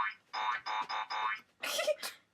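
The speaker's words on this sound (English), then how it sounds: "The boingo noise." A cartoon boing sound effect springs out in a series of short bouncy pulses, four evenly spaced and then two more, clear and alone against silence.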